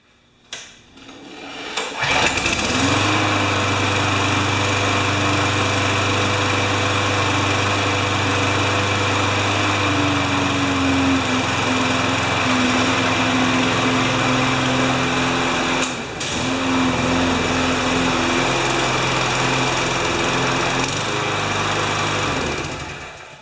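A Murray 20-inch self-propelled lawn mower with a 6-horsepower Quantum engine starts after a couple of seconds and then runs at a loud, steady idle hum close by, with one brief dip partway through.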